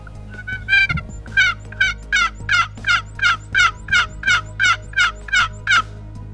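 Wild turkey tom gobbling during a spring hunt, a rapid rattling run of about a dozen evenly spaced gobbles, loud and fairly close, with no other voices.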